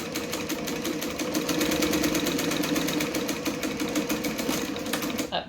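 A sewing machine back stitches through a bag lining, a close, loud, rapid mechanical whir with even needle beats that runs steadily, then stops abruptly at the end.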